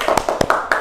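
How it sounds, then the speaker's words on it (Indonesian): Several quick claps in a classroom, a sharp irregular burst of hand slaps over less than a second, close and loud. "Tepuk tangan."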